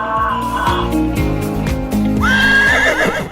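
A horse neighs loudly, a high whinny rising and wavering near the end, over a steady musical background and with no speech.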